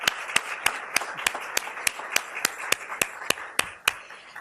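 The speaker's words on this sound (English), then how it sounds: "could we give a round of applause to the people who were involved" Applause from a conference audience at a resilience-financing dialogue, dense broadband clapping with steady sharp louder claps punctuating the wash, moderately loud and with no talk over it.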